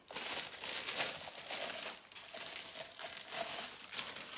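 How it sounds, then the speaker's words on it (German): Packaging crinkles and rustles steadily as a parcel of scented home goods is unpacked, close and continuous with a brief lull midway, and no speech. "Jetzt habe ich schon angefangen mit dem Auspacken."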